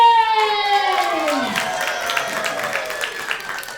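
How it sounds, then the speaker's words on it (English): Theatre audience applause and cheering at a show of The Witches ring out loudly, with a sliding, falling tone and a voice over the clapping throughout. "Give them a round of applause."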